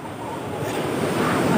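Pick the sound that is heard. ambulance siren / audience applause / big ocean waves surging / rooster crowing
big ocean waves surging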